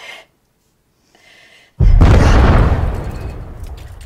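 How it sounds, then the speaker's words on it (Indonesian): A sudden loud, heavy bomb blast erupts after near-silence, its rumble lingering and slowly fading, with no talking. "di luar terdengar suara-suara bom dan tembakan yang tak jauh dari hotel mereka"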